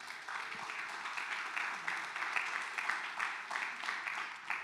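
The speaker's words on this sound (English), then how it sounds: "So a round of applause for that" Applause from an audience at a TechChicago Day life sciences and biotech pitch competition, a moderate, steady patter of many hands clapping with a faint pulsing rhythm, heard at some distance and fairly quiet.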